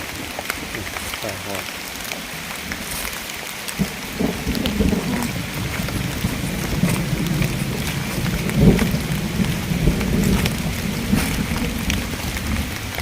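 Steady rain falls outdoors on a hillside climb while foraging for mushrooms, with a dense patter on surfaces, low rumbling that fits thunder, and a voice heard at times.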